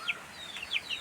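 A chicken near a village house gives a few short, high chirping clucks in quick succession, fairly faint against a quiet background.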